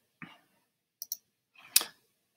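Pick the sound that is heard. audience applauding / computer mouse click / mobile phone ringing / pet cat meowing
computer mouse click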